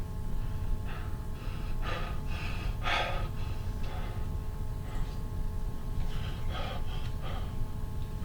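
A lecturer imitates Cheyne-Stokes breathing with a run of audible breaths and gasps that rise and fall in strength, heard close over a constant hissy background.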